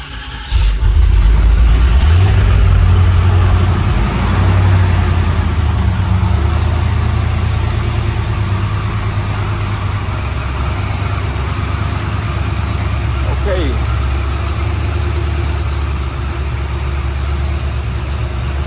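A 1987 Chevrolet Monte Carlo SS engine catches and settles into a loud, steady idle close by, rumbling continuously with a slight rough pulse as it warms.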